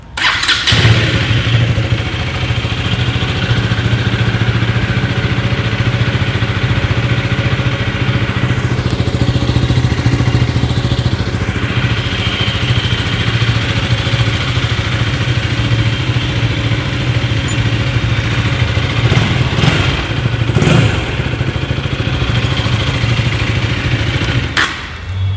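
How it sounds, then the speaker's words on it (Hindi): A 2025 KTM Duke 250 motorcycle starts and idles close by, its exhaust giving a steady, smooth burbling rumble with a few louder throttle blips near the end. "बाकी जल्दी से आपको इसका जो एग्जॉस्ट नोट है वो मैं आपको सुना देता हूँ"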